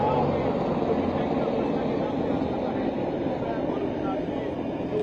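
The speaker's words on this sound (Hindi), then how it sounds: "अपाचे हेलीकॉप्टर आपको आसमान में उड़ान भरते हुए नजर आ रहे हैं" Apache attack helicopters fly overhead at an Indian Air Force anniversary display over the Brahmaputra, a steady broad roar of rotors and engines filling the whole stretch without letup.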